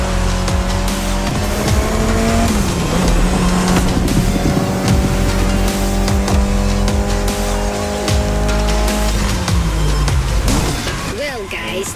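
Mitsubishi Lancer Evolution, its final-generation model, racing in The Crew Motorfest, its engine droning loud and steady with shifting revs and repeated tire squeal; a voice talks over the car throughout.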